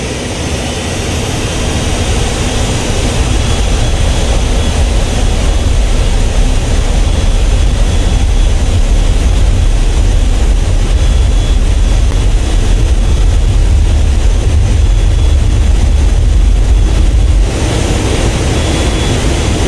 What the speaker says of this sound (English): increase the thrust of both engines to maximum and use gentle inputs of the rudders to keep you tracking down the center line